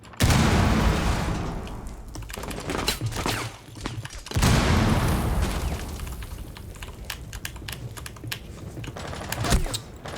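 Grenade blasts and gunfire in a Rainbow Six Siege match: two loud booming bursts, one at the start and one near the middle, each decaying into rumbling debris, with sharp shots and clicky keyboard taps scattered throughout.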